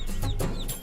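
A rooster gives a short burst of clucking, a few quick close, loud clucks within a second, with no talk over them.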